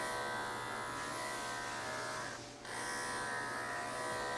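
Electric clippers trim a dog named Uni's wavy hair with a loud, steady close-up buzz that dips briefly in the middle as the blade shifts, then resumes at full strength.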